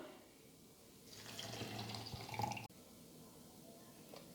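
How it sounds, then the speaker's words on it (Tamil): Water poured into a summer drink mixture of salt and sugar in a lidded container, a short, gentle splash lasting about a second and a half, followed by quiet and a faint click. "இப்போ தண்ணி சேர்த்துக்கிறலாம்."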